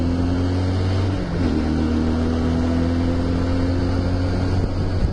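A Barossa SMC 250 quad bike engine drones loudly and steadily close by, its pitch dipping briefly and then holding a strong, even tone under acceleration.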